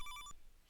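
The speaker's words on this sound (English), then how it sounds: "And then we get a phone ringing, I guess." Phone ringing in the King's Quest video game: a short electronic telephone bell with rapid repeated pulses, loud for about a third of a second and then cutting off.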